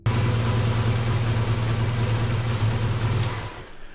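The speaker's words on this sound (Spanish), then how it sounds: "debemos encender la moto por 5 minutos, esperar a que el motor tome temperatura" A motorcycle engine idles steadily after an oil and filter change, warming up with a low, even rumble that stays constant and close for several seconds before cutting off near the end.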